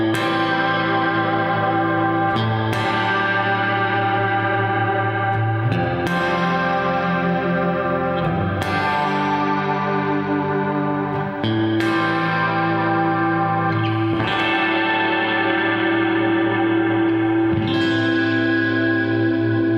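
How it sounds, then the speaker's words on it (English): Sustained notes played through a reverb effect with wobbling modulation swell and decay over several repeated attacks, a lush shimmering wash carrying the same character throughout, with no voice. "It gives a kind of a wobble to the reverb."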